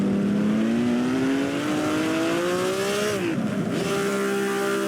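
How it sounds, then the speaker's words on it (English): A 1950 Ferrari Grand Prix race car at the Pau street circuit roars loud and close, engine pitch climbing steadily as it accelerates, then dropping sharply on a downshift before pulling again. "Here the action scene from the Ferrari of Villaresi."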